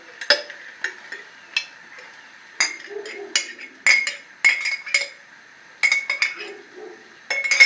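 Glass jars clink and tap in a kitchen while mushroom stew with carrots, pepper and tomato is prepared, a series of close, bright, irregular knocks and rattles with short pauses between clusters.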